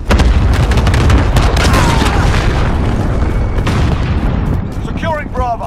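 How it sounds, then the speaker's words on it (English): A cruise missile strike explodes in Call of Duty, a very loud, sustained booming roar of blast and debris that slowly fades, with a few chirping game effects at the end. "Enemy cruise missile incoming."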